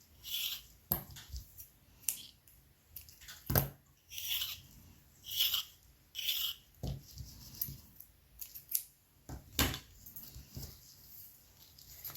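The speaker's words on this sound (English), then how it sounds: "Then you need to grab your thread and just cut 3 times the size of your spine." Scissors snipping thread for hidden-spine book binding on an autumn junk journal, a series of short sharp cuts with gaps between them, close and fairly quiet with no talk.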